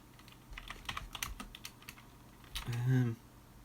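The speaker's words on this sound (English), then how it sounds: "Don't be listening to what I'm typing." Fingers tapping keys on a keypad inside a parked car, a quick run of light clicks followed by a louder burst near the end, with a voice humming or murmuring briefly over it.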